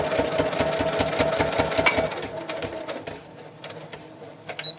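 A sewing machine stitches a fabric bag with rapid, rhythmic needle clatter close by. The pace is fast at first, then slows into shorter, uneven bursts. No one speaks.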